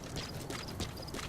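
A horse in the video game Metal Gear Solid V trots in after being called, its hooves clopping in a quick, steady rhythm against a noisy, hissing backdrop.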